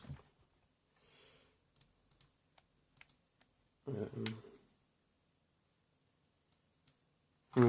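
Buttons on an Xbox 360 controller are pressed one after another, giving sharp, light plastic clicks spaced irregularly at close range, with a brief louder rustle midway.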